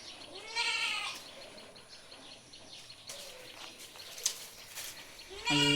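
A Malabari goat gives a couple of clear, close bleats, one near the start and another at the end, with quiet rustling farmyard sounds between.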